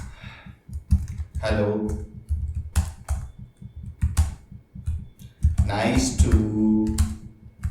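A computer keyboard is typed on in short bursts of clicking, each burst mixed with someone speaking close by.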